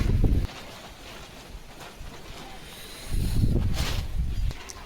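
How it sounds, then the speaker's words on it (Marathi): Strong gusts buffet the microphone in two loud bursts, with a quieter breezy stretch between them. "पाऊस यायचा इले वारा सुटलाय बेकार"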